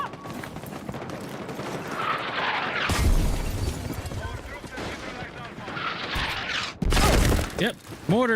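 Explosions and gunfire from a mortar strike in a military shooter video game, dense rumbling blasts building through the middle and erupting again near the end, heard over a constant busy battle mix.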